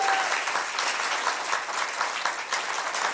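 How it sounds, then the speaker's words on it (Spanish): A crowd bursts into loud, continuous applause, many hands clapping densely and evenly throughout with a faint murmur beneath. "Esto merece un aplauso."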